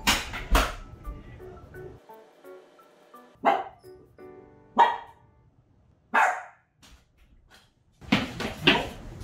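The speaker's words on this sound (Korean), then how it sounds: "짖을 거거든요" A mixed-breed dog indoors lets out several loud, sharp barks in separate bursts with pauses between, near and clear, alongside a door or cupboard sound.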